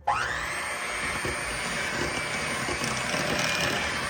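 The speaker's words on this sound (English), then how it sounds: "now I'm going to mix this together" An electric hand mixer whirs steadily while mixing eggnog loaf bread batter, a continuous close motor whine with rattling beaters that starts abruptly and holds at even loudness.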